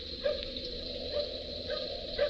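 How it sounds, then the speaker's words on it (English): A little dog barks faintly in the distance on a quiet country setting in an old radio mystery drama, three or four short yaps spaced out over a steady background hiss. "Little dog barking."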